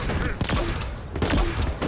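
Shotgun blasts in Halo Infinite, several loud, closely spaced bursts over continuous in-game combat noise.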